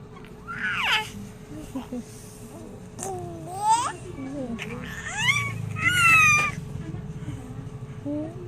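A baby babbles close by in short, sing-song bursts of squeals and coos, rising and falling in pitch, with brief pauses between.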